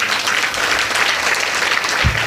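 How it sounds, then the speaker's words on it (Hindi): Loud, close applause from an audience at a Hindu devotional katha gathering, a thick continuous roar of clapping with no pauses. "एक बार जोरदार तालियाँ।"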